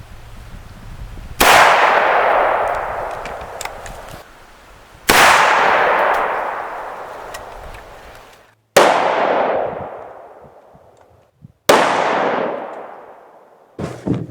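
Four loud 5.45x39 and 7.62 rifle shots fired into a stack of cardboard, each a sharp crack followed by a long reverberant decay, spaced a few seconds apart.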